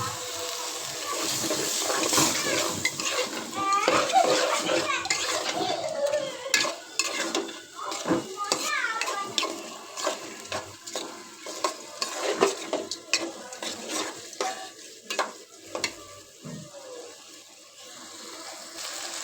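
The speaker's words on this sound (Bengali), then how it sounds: "চাল ডাল কাঁচামরিচ দিয়ে দেবো ভালো করে কষাই নিব" Rice, lentils and green chillies sautéed with spices for khichuri: continuous stirring and scraping in a pot with frying sizzle, utensil knocks and clatter throughout, fairly close and busy.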